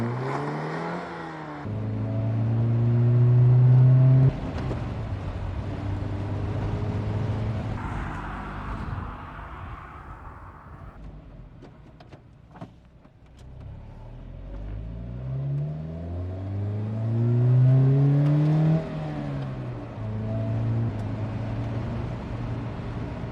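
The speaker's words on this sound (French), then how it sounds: "J'entendais le moteur de là-bas." Opel Speedster sports car engine revving repeatedly, rising and falling in pitch with loud harmonic bursts and a steady idle between, close by and without speech.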